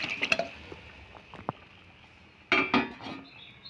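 Pressure-cooked chicken pieces tipped into a pot of oil-released spices for chicken kosha, then stirred, with scattered clinks of a spoon against the pot and a brief loud clatter and sizzle near the end.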